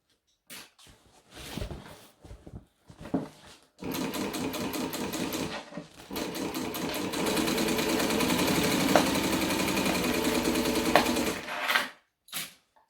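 A sewing machine stitches fabric in several short bursts, then runs in one long steady rattling stretch before stopping, close and clear with no talk over it.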